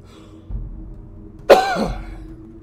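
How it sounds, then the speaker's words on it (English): A single sharp dry cough bursts out close to the microphone, preceded by a faint throat sound and followed by quiet breathing. "Hate the dry coughs."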